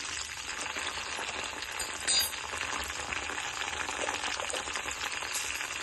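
Dry red chillies frying in oil that is not yet fully hot make a soft, continuous hiss and crackle, with a faint clink of a utensil partway through and no talking.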